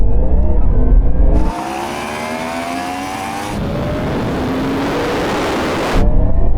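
A Ferrari SF90 accelerating hard past the listener during a 50 mph roll-on drag race, a loud rising engine roar that swells as it draws level and holds for several seconds before the wind rush returns, with no talking.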